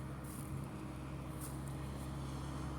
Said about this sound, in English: Just let this tractor go by.